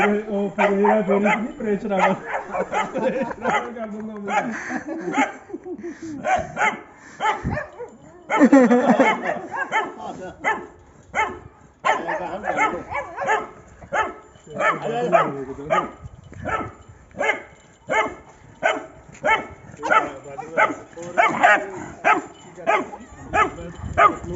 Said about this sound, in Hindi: टुट्टू भौंक दो, टुट्टू भौंक दो, भौंक दो, भौंक दो टुट्टू।